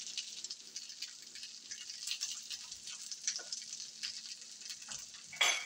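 Chopped onion sizzling and frying on a hot surface for hot dogs, a steady crackling hiss with small pops, moderately close and continuous, with a brief louder burst near the end.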